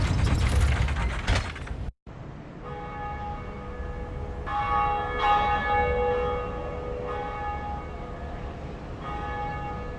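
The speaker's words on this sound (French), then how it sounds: "nous avons sonné la première cloche de l'éveil" The first Bell of Awakening rung in the video game Dark Souls: a grinding mechanical ratchet and gear clatter, then a deep church bell tolling with long ringing overtones that swell and fade over several seconds.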